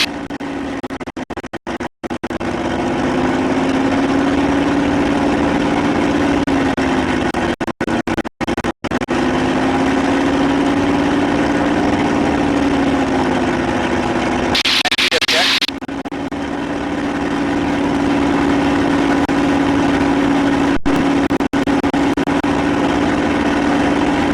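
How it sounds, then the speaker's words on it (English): An aircraft engine runs at high power during the run-up and propeller exercise before a Stallion 51 flight. It makes a loud, constant droning roar, with a steady hum that shifts pitch slightly, and a brief burst of noise partway through. "Power check is good. Exercise the propeller now."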